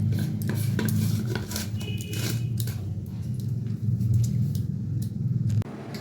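Spices being ground with a pinch of salt into a chutney paste, giving a steady scraping, rubbing grind over a low rumble with short clattering knocks, close and continuous.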